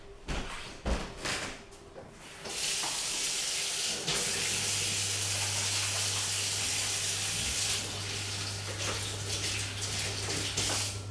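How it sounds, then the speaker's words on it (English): Tap water running hard into a sink during handwashing before cooking egg fried rice, a loud steady gush that starts after a couple of seconds of bumps and clatter and continues to the end. "let's go and wash our hands."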